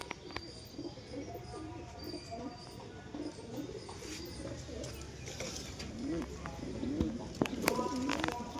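A female domestic pigeon coos in soft repeated low rolls, close by, mixed with clattering mechanical rattles and a busy coop background.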